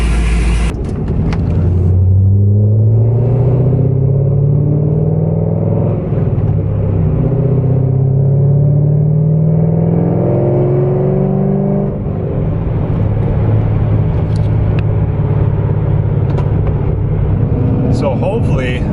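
A Chevrolet Corvette C5/C6 cruising on the road, its engine a steady low rumble and whir with gentle rises in pitch as it accelerates, heard from inside the car with continuous talk over it.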